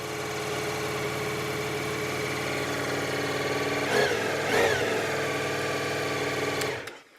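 Ducati Multistrada V4S motorcycle engine, a 2021 model, idling steadily after a cold start in the morning, a close, even mechanical hum with a couple of brief revs near the middle before it cuts off at the end.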